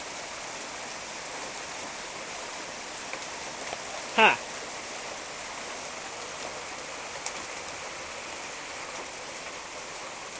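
Hail from an October storm falls steadily, a broad even hiss of pea-sized stones striking the ground close by, with one brief voice sound partway through.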